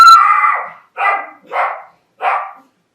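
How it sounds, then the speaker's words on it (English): A dog barks four times nearby, loudly: one longer opening bark, then three shorter barks with brief pauses between them. "My dog just started barking."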